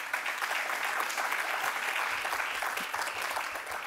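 Steady audience applause from a conference crowd, dense and even clapping filling the room for several seconds with no voices standing out.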